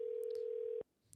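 A telephone call tone holds a steady, faint single pitch, then cuts off abruptly, leaving quiet background with a few faint clicks.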